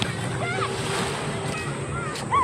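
Sea waves washing onto a beach with clear water, a steady wash of surf and wind buffeting the microphone, with faint voices in the background.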